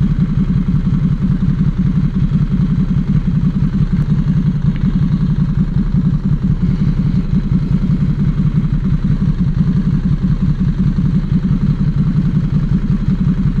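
A motorcycle engine roars steadily and loudly from the rider's position as it accelerates hard off the line while racing a car on a road with a 40 limit. The drone stays constant and close, with no talking.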